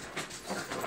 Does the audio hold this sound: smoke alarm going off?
no